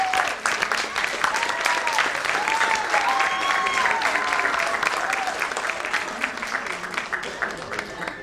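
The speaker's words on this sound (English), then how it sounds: "round of applause" Sustained audience applause at a school annual day, a dense, steady wash of many hands clapping that holds for several seconds, with faint voices and whoops mixed in.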